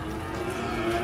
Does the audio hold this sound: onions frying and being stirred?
no